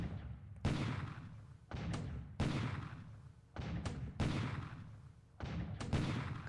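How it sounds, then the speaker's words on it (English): Naval bombardment in the World War II strategy game War in the Pacific, with shells falling on Midway: repeated heavy booming blasts, some in close doubled pairs, each followed by a rumbling decay, continuing in a loud irregular sequence. "here's the first bombardment of the day."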